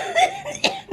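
A person gives a couple of short, harsh coughs up close, ending with a brief voiced catch, all in about a second.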